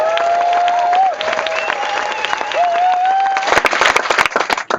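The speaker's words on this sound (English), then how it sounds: "please give an even bigger hand and round of applause to George Monbiot" An audience at a London talk bursts into applause for the speaker, George Monbiot. Dense, loud clapping rises near the end after a sustained tonal sound fills the room beforehand.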